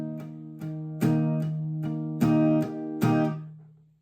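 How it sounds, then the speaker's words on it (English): Acoustic guitar strumming the pattern of a song: clear chord strums in a steady rhythm, an extra down strum, then the strings muted so the sound dies away; close and alone, no talking. "We're going to do one full strumming pattern and then one extra down strum before muting the strings."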